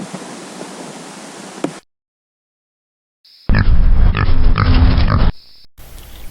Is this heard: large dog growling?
no